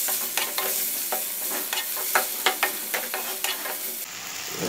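Masala of onion and tomato sautés in a pan for fish curry, a steady loud sizzle broken by a regular rhythm of spatula scrapes and stirring taps.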